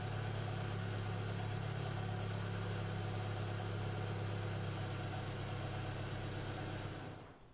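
A Mercedes W205 C-Class sedan engine idles close by with a steady, even low hum and no talk, continuing unchanged until it drops away abruptly in the last half second.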